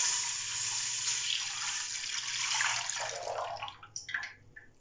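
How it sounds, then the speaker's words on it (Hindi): Half a litre of lukewarm milk poured into a cooking pot for gajar ka halwa, a steady close splashing stream that runs for several seconds, then breaks into a few trailing drips and splashes as it stops. "यहाँ मैं देचके में 1/2 लीटर दूध डालूंगी।"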